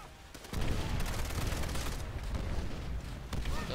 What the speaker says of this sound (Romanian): hai să dau cu grenada așa pe acolo